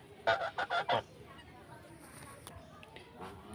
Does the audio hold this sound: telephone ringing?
no